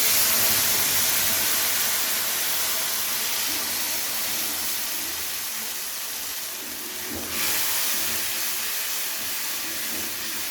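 A paste of coriander leaves, garlic and green chilli sizzles in a hot pan for a fish dish, a steady close hiss that shifts briefly near the end, with no talk.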